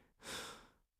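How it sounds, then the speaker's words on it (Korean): A single heavy, rough breath, close and hoarse, swelling quickly and fading out within a second in a quiet space. "거친 숨소리가 고요한 공간을 울린다"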